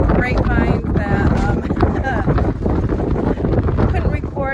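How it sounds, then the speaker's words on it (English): Strong wind roars outdoors on a cold day by the water in Lansing, Michigan, buffeting the microphone in a constant loud rumble with gusty rustling, no voices heard. "it's just too damn windy"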